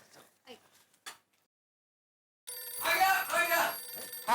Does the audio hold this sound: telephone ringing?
yes